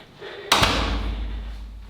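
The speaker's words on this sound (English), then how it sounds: "Doors close." A door shuts with a single sharp thud and slam, followed by a low rumbling decay, loud and close.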